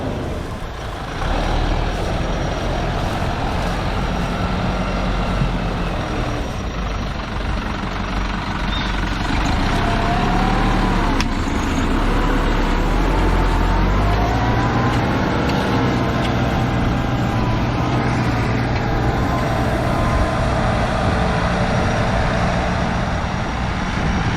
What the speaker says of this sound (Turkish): traktör bakın sesi değişti. Turbodan çıktı. Turboya girince birazcık daha böyle e, heybetli bir sesi geliyor.